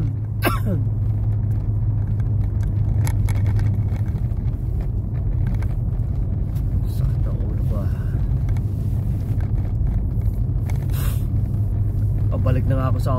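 Heavy rush-hour road traffic heard from inside a car, a steady low cabin rumble that runs throughout, with people talking over it and a few sharp knocks and clicks.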